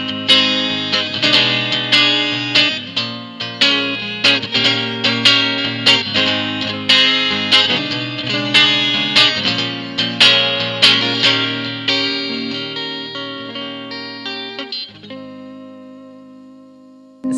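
An electric guitar through a chorus pedal strums repeated chords with a warbling, shimmering tone, ending in a long ringing fade.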